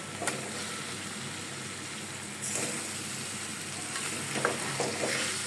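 Fish frying in hot oil with salt before bottle gourd stalks go in, a steady close sizzle that swells louder partway through, with a few soft clinks of stirring and no talking.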